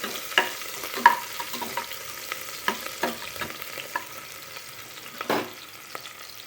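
Chopped onions frying in oil in a pan for mutton curry, a soft continuous sizzle broken by several sharp spoon scrapes and stirring knocks, close up with no voices.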